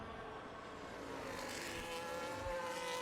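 Formula 1 race cars in the F1 25 video game scream past during an overtake, a loud sustained engine whine that rises in pitch and swells slightly toward the end.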